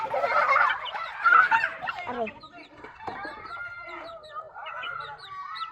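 Chickens cluck and squawk close by while people talk over them, the birds' calls breaking through in short bursts.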